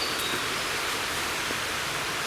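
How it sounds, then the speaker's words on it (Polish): A mountain stream, the Sanka, rushes below in a valley, giving a steady broadband hiss of flowing water that stays constant and somewhat distant throughout, with no voices. "W dole szumi potok Sanka"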